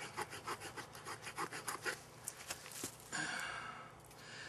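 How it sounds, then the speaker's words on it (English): A multi-tool saw blade cuts off a small piece of wood with a quick series of rasping back-and-forth strokes close by, then a brief scraping rub as the cut finishes. "while you're sawing off this little piece of wood"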